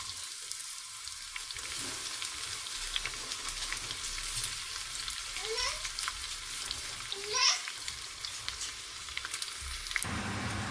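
Onions frying with dried red chillies in hot oil make a faint, steady sizzle with a few stirring scrapes, heard under soft background voices and a child's babble.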